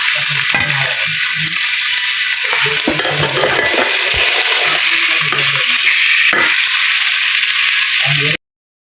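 Potatoes fry in hot oil with a dense, steady sizzle, punctuated by repeated scraping and clinking stirs of a spatula against the pan, close and loud, before cutting off abruptly.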